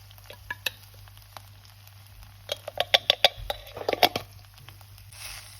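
Mince and rice with sweet spices stirred in a pan: a quiet sizzle with a run of scraping, clattering spoon strokes in the middle, then a brief hiss at the end.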